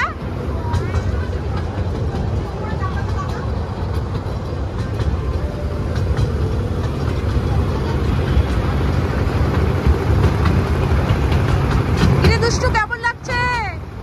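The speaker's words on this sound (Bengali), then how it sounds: "এখনই ট্রেন ছাড়বে" A passenger train at a station about to depart gives a steady low rumble and mechanical drone throughout, with people talking over it and a brief burst of higher clatter near the end.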